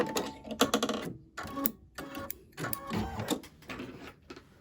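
An embroidery machine stitching small eye details on a turkey-themed mug rug, rapid mechanical whirring and tapping in short bursts with brief pauses between runs, fairly quiet and close.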